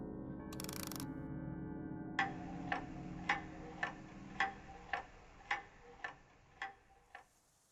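Rhythmic mechanical ticking from a clock in a puzzle video game, about ten evenly spaced sharp ticks that follow a brief buzzy burst and sit over a low ambient hum, with no voices.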